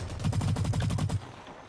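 Automatic gunfire in the shooter game Blacklight: Retribution, a steady rapid burst of about a dozen close, punchy shots that stops abruptly and leaves a quiet tail.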